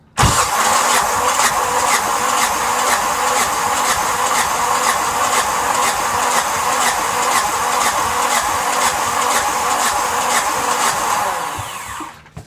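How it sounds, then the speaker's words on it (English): Yanmar SB12 sailboat diesel engine cranking steadily with a fast, even rhythmic chug for about twelve seconds, loud and close, then cutting off abruptly at the end. "Go ahead and crank it over."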